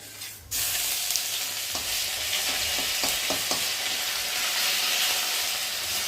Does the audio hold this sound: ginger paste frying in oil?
yes